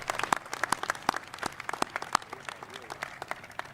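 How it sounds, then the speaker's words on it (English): A ribbon-cutting ceremony crowd at a public safety training center claps in thin, scattered applause; individual crisp claps from a modest group ring out separately rather than merging into a roar. "So please join me in a round of applause for Jenny."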